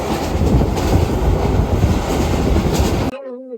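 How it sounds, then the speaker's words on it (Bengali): A train at Laksam junction station makes a loud, close, continuous rumble and rattle of rail cars that cuts off abruptly near the end. A brief voice follows the cutoff. "এখন লাকসাম জংশন আর কি ট্রেনটা থেমেছে"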